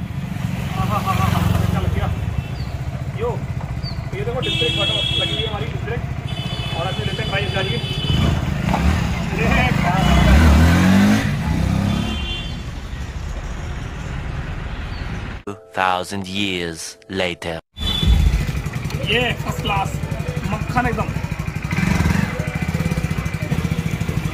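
A Hero Splendor BS6 motorcycle fitted with a newly installed disc brake runs its engine in a steady close putter that briefly falters and cuts out before resuming, while someone talks over it.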